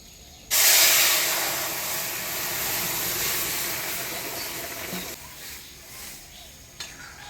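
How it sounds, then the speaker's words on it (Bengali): Boiled kalai dal tipped into hot tempering of dried red chilli, bay leaf, crushed ginger and fennel bursts into a loud, close sizzle that slowly fades over several seconds, then drops to a quieter bubbling. "এবার সিদ্ধ করে রাখা ডাল দিয়ে দেব।"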